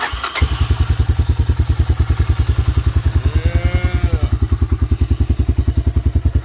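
A small engine on a 1985 Honda Big Red three-wheeler ATV catches and immediately settles into a loud, steady, rapid idle, close by, with a faint rising whine partway through.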